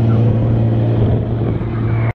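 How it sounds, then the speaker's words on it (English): Drift cars on a race track at a lap battle event produce a loud, steady engine drone with a strong low hum, close by and continuous, then cut off abruptly. "So yeah, bunch of drift cars."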